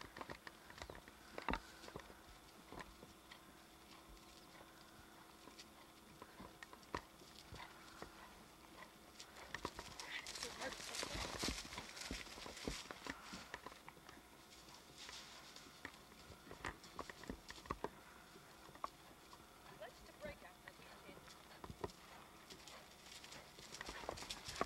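A horse cantering during backyard schooling, faint rhythmic hoofbeats mixed with outdoor background noise, swelling briefly louder midway, with a little distant voice.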